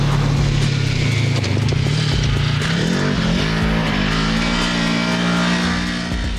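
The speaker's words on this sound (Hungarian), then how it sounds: "Maga a motor egyébként egy 875 köbcentis négyütemű kéthengeres ikerdugattyús szívó benzines farmotorról beszélgetünk vízhűtéssel." A military light vehicle with a rear-mounted 875cc four-stroke, twin-cylinder, water-cooled petrol engine drives past, its steady engine drone and rising tone loud and continuous throughout.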